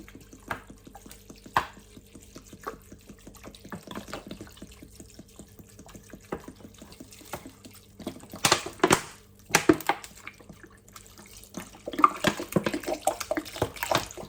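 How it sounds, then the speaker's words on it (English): Still mineral water is poured from a bottle over sea moss in a bowl, a soft trickling that runs on and off, with a few louder splashing bursts toward the middle and end, close and fairly quiet. "And pour the water in."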